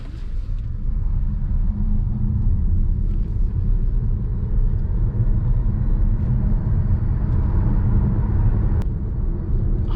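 Inside a Suzuki e Vitara electric car at high speed on the road, a steady low road and wind rumble fills the cabin, continuous and fairly loud with no talk.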